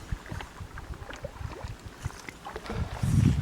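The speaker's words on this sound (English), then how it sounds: "what I want to do tonight is paddle a little bit around Kearney Lake" A canoe paddles on Kearney Lake in Algonquin Park, soft irregular water splashes and knocks of strokes, close and quiet, with a rumble of wind building at the end.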